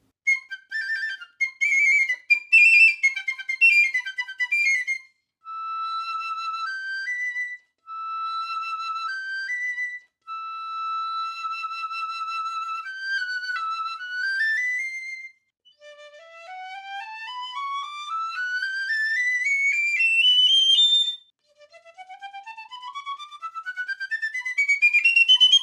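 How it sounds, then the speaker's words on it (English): A bright, high Pearl Model 105 piccolo of plastic composite with a silver-plated mechanism plays alone, holding clear notes in a stepwise melody, then sliding through long rising runs toward the end. "I will now play this Pearl Piccolo Model 105."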